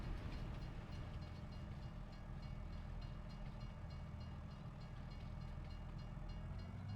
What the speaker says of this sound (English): let's watch the train go by.